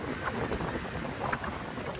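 Steady wind blowing across an open outdoor spot in a rural Philippine province, a continuous broadband rush with mild gusts and microphone buffeting, no talking.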